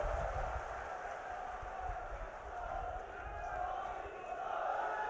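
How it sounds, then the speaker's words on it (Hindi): A large crowd at a BJP election rally in Churu applauds in welcome of the Prime Minister, with a faint, distant, sustained roar of clapping and cheering that swells and dips slightly. "पुनः माननीय प्रधानमंत्री जी को एक बार जोरदार तालियों के साथ स्वागत और अभिनंदन"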